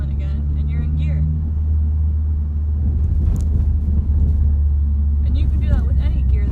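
A manual-transmission car engine hums and rumbles steadily inside the cabin as it pulls away in gear after a shift, a loud continuous drone with someone talking over it.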